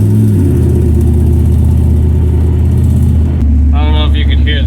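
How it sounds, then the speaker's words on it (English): A 6.5L truck engine runs with a leaking passenger-side exhaust manifold gasket, giving a steady low exhaust rumble throughout with a faint ticking layer, then a brief pause before it rumbles on. "My passenger side exhaust manifold gasket is leaking"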